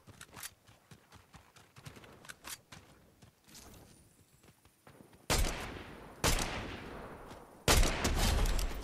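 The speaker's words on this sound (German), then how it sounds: "Drüben waren noch Schüsse hier." Video game gunfire in Fortnite: scattered faint shots and clatter at first, then three loud, abrupt blasts of fire, each followed by a lingering noisy tail.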